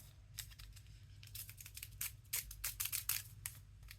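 Scissors snip through a paper salt packet at close range: a quick run of small, crisp cutting clicks and rustles, fairly quiet, with no talking.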